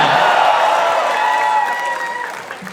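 Applause and cheering from a studio audience at a Gujarati comedy talk show, a steady dense wash of clapping that stays loud throughout and thins slightly near the end.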